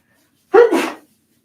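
A single sharp sneeze, close and loud, bursting suddenly out of silence.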